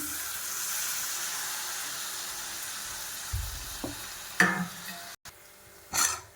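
Chopped tomatoes go into a frying pan for a mushroom gravy served with chapati. A soft sizzle runs under several stirring knocks and scrapes, then a brief gap and more clatter.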